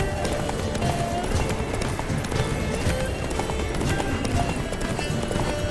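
A horse gallops in The Witcher video game, its rapid clip-clop hoofbeats pounding steadily and close throughout, with a neigh now and then amid the rush.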